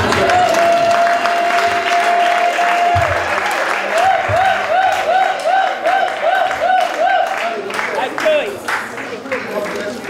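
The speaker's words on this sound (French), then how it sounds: "Nous acclamons." A church congregation in Aachen, Germany, applauds after a prayer at a worship service, steady clapping mixed with crowd voices and sustained musical tones over the top.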